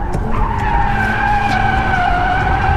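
Tires of a Mazda RX8 screeching loudly in a steady, wavering squeal as the car slides sideways while drifting, with engine noise underneath.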